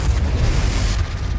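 A Confringo explosive spell from Hogwarts Legacy bursts in a loud, deep boom with a rumbling low-end blast that lingers and fades over about a second and a half.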